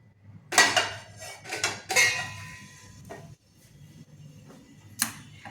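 An iron tava griddle is set onto a kitchen stove with a few sharp metallic clanks and scrapes, close and loud, separated by short quiet gaps.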